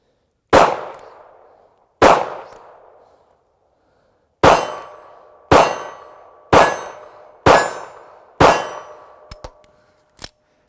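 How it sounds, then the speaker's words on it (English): Ruger LCP pistol shots ringing off steel targets at about 12 yards outdoors: sharp cracks each followed by a metallic clang that decays, two spaced hits, then a quicker string of five, then two fainter taps. "I got these steel targets set up at about 12 yards, just so you guys kind of know what I'm shooting at"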